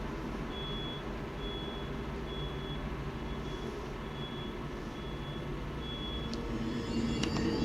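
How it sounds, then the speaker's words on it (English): Vehicle reversing beeps, a steady evenly spaced tone pulsing about every half second over loud continuous traffic rumble, with a couple of sharp clanks near the end. "And now someone's backing up. I can hear the beep, beep, beep."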